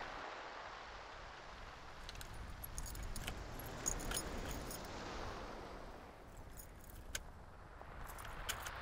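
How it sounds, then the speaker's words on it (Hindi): Car keys jangle in a series of light metallic clinks scattered over several seconds, faint and close against a steady low background hum. "चाबी।"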